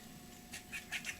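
A squirrel squawks somewhere in the woods in a series of faint, short, raspy chirps, distant over a soft background hum.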